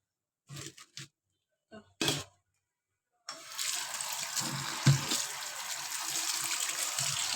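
After a few brief clinks, cold water gushes steadily from a tap over boiled noodles, splashing continuously for several seconds.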